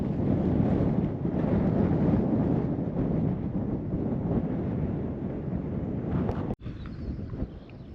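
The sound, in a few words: strong wind blowing on a Lake District hilltop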